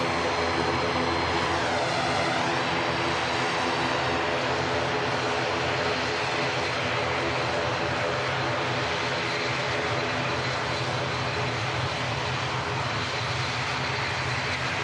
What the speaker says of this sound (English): the first prop of the show rolls past. This is the flight to Belfast on behalf of Emerald Airlines